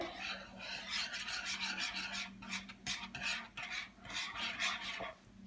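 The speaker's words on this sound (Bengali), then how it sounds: "এরকম অনবরত নাড়তে থাকবেন" Egg barfi mixture stirred nonstop in a frying pan, a close rhythmic scraping and rasping of a spatula against the pan in repeated strokes, with no voices.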